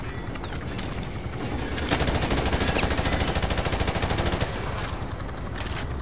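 Automatic gunfire crackles in the Call of Duty Modern Warfare video game, with a dense rapid burst of shots in the middle and scattered louder cracks around it against a steady battle rumble.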